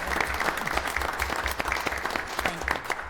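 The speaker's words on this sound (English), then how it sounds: "we can give her a round of applause for that" Applause from the audience at a city parks and recreation commission meeting, a steady patter of many hands clapping at moderate distance, continuing throughout without speech.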